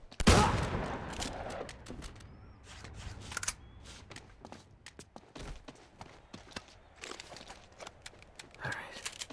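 Shotgun blasts and scattered gunfire ring out during a village firefight in Uncharted 2: Among Thieves, with a heavy burst at the start and then sharp, irregular reports and clatter throughout.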